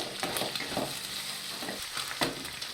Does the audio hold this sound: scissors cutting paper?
no